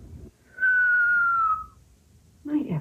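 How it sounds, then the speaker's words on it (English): A kettle whistles with a steady, high single tone that holds for about a second, loud and clear, before stopping. A voice follows briefly afterward. "that kettle would start to whistle"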